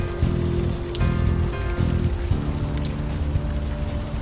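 Rain patters steadily in the video game Unavowed, a dense continuous hiss beneath sustained tonal background music, with no talking.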